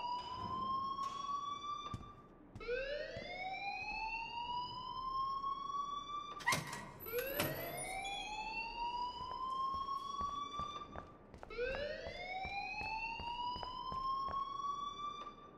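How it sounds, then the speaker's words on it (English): An alarm in the video game Life is Strange wails in repeated rising siren sweeps, loud and continuous, with a brief sharp knock partway through. "please turn off that alarm since that's your job"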